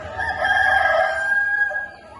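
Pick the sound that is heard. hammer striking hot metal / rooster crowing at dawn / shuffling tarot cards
rooster crowing at dawn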